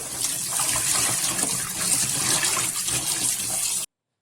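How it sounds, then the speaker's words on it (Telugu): Water pours steadily from a tap to wash pieces of fish, a continuous rushing, splashing flow heard up close for a few seconds before stopping abruptly. "ఆ తర్వాత ఇంకా వాటర్ పోసి మంచిగా కడుక్కుందామండి"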